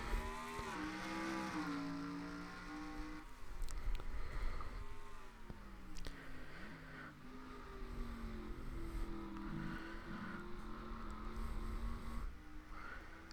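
Race cars in a racing video game at Watkins Glen International accelerating off the green flag start, several engines droning and revving together in a layered, shifting roar with no voices.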